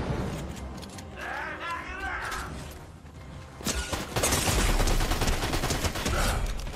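Gunfire in a Fortnite match: a dense stretch of rapid shots and crackling bursts fills the second half, loud and chaotic, following quieter game sounds and effects earlier on.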